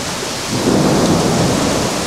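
Heavy rain pours in a dense roar during a tornado-producing thunderstorm while a low rumble of thunder swells and rolls, close and loud, with no voices.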